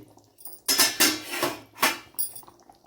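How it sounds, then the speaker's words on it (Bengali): A metal lid is loosened on a pot of boiling chicken curry with new potatoes, clattering and clinking in several sharp bursts, close and loud, with no talk. "আমি এবার ঢাকনাটাকে আলগা করে দিচ্ছি।"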